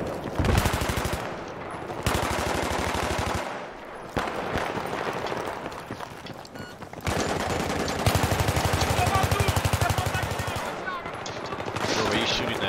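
Automatic weapons fire in the Battlefield video game comes in repeated loud, rapid bursts separated by short pauses, with intense rattling volleys and some voices faintly underneath.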